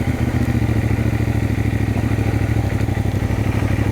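A CFMOTO MT450 motorcycle engine chugs steadily at low revs in first gear, throttle off, crawling at about 10 mph, a continuous close rumble with a rapid, even pulsing beat.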